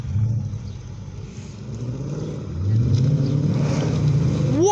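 Ford Mustang and Dodge Challenger SRT American muscle car engines at a car meet outside the Dovecote Inn, Laxton: a deep, steady rumble nearby that swells louder about halfway through and stays strong to the end.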